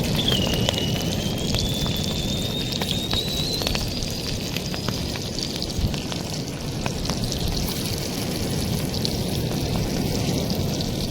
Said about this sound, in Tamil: எண்ணெய் நல்லா சூடாயிடுச்சு. இப்போ நம்ம இந்த மேரினேட் பண்ண எறாவை உள்ளே போட்டுடலாம்.